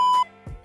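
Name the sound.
stock beep sound effect added in a phone video editor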